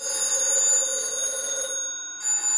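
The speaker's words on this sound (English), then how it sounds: "the sound of a ringing phone" A telephone bell rings in a steady electronic trill, stops briefly, then starts again, clear and fairly loud with no talking.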